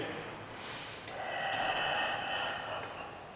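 During a deep hip stretch massage for sciatica, the client draws one long, audible breath in through the nose. It swells and then eases off, close and quiet, with no talking.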